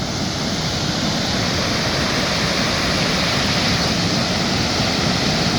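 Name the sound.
rushing water flowing over rocks in a river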